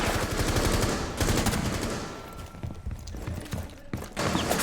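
Close, loud gunshots in the video game Rainbow Six Siege during a Terrorist Hunt match, sharp rapid shots and bursts separated by a quieter stretch of mechanical movement.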